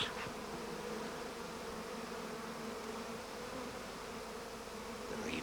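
Honeybees buzz in a hive, a faint, continuous droning hum with no other sound.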